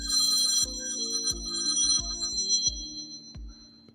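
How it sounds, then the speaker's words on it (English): A telephone ringtone goes off during a live radio talk show, a repeating electronic melody of bright tones with a steady rhythm, heard alone and fairly loud. "Uh-oh, there's my phone."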